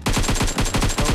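Rapid automatic gunfire from a video game rattles in a steady, loud, close burst of evenly spaced shots lasting over a second, with no talking over it.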